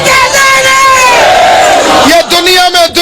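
A large crowd at a religious gathering in Multan chants slogans in unison, loud, rhythmic shouted calls that swell together and then break off in short bursts.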